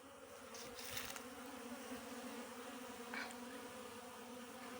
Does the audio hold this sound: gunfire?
no